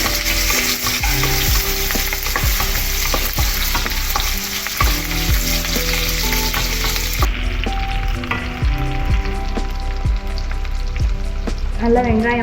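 Small onions sautéing for sambar, a loud continuous sizzle and crackle close by, with background music running throughout and stirring clatter.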